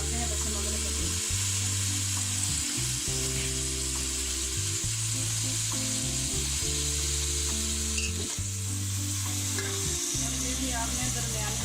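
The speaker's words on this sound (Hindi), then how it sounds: "चिकन डाल दिया फ्राई होने के लिए और साथ ही इसमें डालते हैं प्याज।" Chicken and onion sizzle and fry in a pan while being stirred, a steady loud hiss over a low droning background hum that continues throughout, with no voices.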